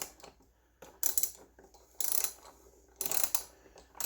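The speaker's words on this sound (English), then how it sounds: "I'm going to take my ratchet with my spark plug socket. I am going to just snug this up." A ratchet turns a spark plug socket to snug a spark plug into an engine, giving about four short bursts of rapid metallic clicking separated by pauses, close up and with no talk.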